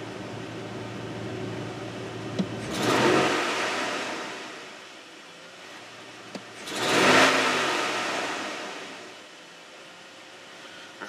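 Engine of a 1999-2004 Jeep Grand Cherokee revving to about 2,000 RPM twice, each rise swelling loudly then falling away, over a steady idle hum with no talk.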